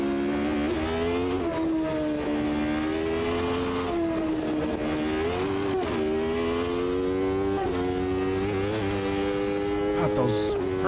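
Race car engine in the video game Automobilista 2 drones loudly and steadily, with repeated pitch drops as it downshifts, holding a continuous close engine tone throughout.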